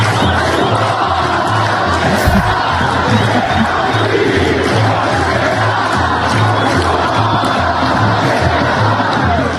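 Bragantino football supporters in a stadium crowd chant and cheer loudly and continuously, a dense roar of many voices with a rhythmic low beat underneath.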